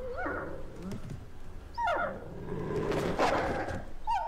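A direwolf from Game of Thrones lets out a series of high, wavering whimpers and whines, close and fairly loud, with short pauses between the cries.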